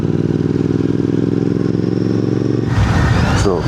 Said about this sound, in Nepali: सो बाइक चाहिँ यहाँ हल्कासँगले पार्क गर्छु होइन म।